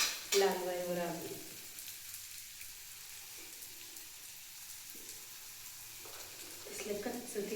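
Food sizzles and fries in a hot pan, a steady crackling hiss that runs throughout, with stirring noises and a brief voice at the start.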